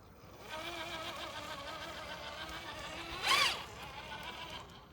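A radio-controlled crawler with a 12-turn motor crawls slowly in first gear, giving a faint, steady electric whine with a brief louder rasp near the end.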